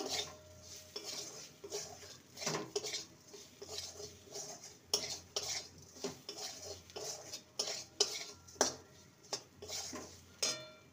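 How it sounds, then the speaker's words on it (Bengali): Roasted ground coriander and cumin stirred in a pan, a spoon scraping and clinking against the metal in steady repeated strokes, close and moderately quiet. "এবারে ভেজে রাখা ধনে আর জিরে গুঁড়ো সমস্তটাই দিয়ে দিলাম, পরিমাণ মতন দিয়েছিলাম। ভালো করে নেড়ে নেব।"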